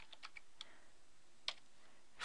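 Keys on a TI-83/84 calculator are pressed in a few faint, sparse clicks with short pauses between them, plus one slightly sharper tap. The setting is otherwise quiet, with no talking.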